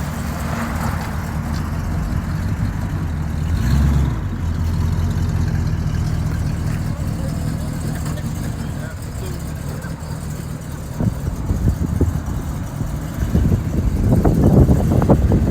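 A car with a 455 engine idles nearby, a steady low rumble with a slight rev swell toward the end, while people talk and cheer over it.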